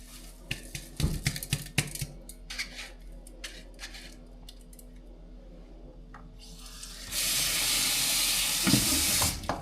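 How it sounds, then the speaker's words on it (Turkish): A kitchen tap runs during stuffed vine-leaf (sarma dolma) preparation, a steady broad rush of water starting partway through and continuing loud to the end, after a stretch of clattering and handling noises. "Musluk duyuyorum."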